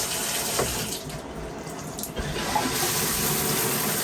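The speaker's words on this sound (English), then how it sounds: "Turn on the water." A newly installed shower head sprays water continuously, a steady broadband hiss with a brief dip in the middle, close by and without talk.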